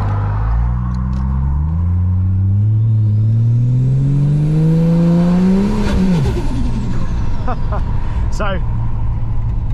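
A Ford Falcon XR6 Turbo engine revs loud and close from inside the car as it accelerates, pitch climbing steadily through one long pull before dropping sharply at a gear change, with someone speaking briefly over it.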